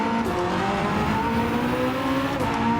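Tires locking up under late, hard braking on a hypercar in Gran Turismo 7, a steady engine drone and tonal squeal running continuously and loud for the whole stretch.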